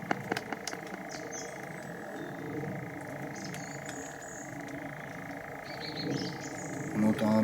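Frog croaking outdoors at a reputedly haunted site, a steady low chorus of calls with faint birdlike chirps above, heard under a radio ghost box's static hiss and bursts of voices.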